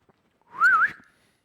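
A single short, clear whistled tune, rising and dipping, heard alone in a quiet room.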